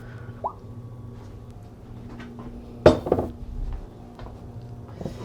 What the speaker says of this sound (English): Okay, and we're gonna get our clean bowl.